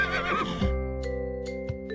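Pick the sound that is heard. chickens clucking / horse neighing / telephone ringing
horse neighing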